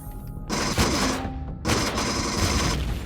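Heavy gun turrets in Empyrion Galactic Survival fire in two loud, dense bursts of rapid booming shots, each cutting off sharply, with a short quiet gap between them.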